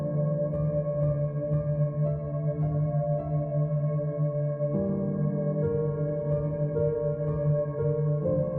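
Slow, smeared piano chords hold and swell in a continuous reverberant wash, shifting to a new chord about halfway through.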